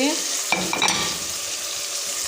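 Potatoes tossed into hot masala sizzle loudly up close, a steady hiss with a few stirring scrapes and a brief clatter as they go in.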